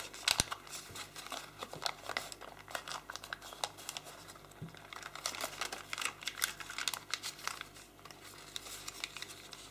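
Paper being creased and folded for an origami grizzly bear, giving a close run of small crinkles, taps and rustles throughout.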